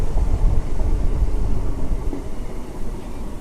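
A Renigunta to Nellore MEMU passenger train rumbles steadily, a low continuous roar of rolling wheels heard from close by, with no talking.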